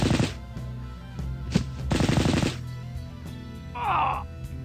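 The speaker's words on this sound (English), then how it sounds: "So that was Overwatch fire by our Ultramarines. Autocannon shot." Autocannon fire in a Warhammer 40K battle game comes through as a sound effect: short bursts of heavy rapid shots with gaps between, ending in a faint trailing tone.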